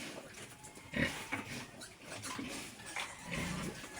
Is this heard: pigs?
yes